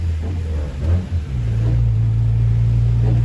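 Honda 1.6 car engine revving up, a loud low rumble that dips briefly and then settles into a steady, strong droning hum with no talk over it.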